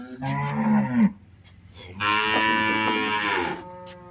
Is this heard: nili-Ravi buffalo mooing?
yes